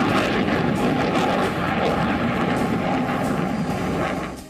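Sukhoi-30 and Mirage 2000 fighter jets roar in a loud, steady, broadband engine rumble that holds constant before tapering at the end, with no voices.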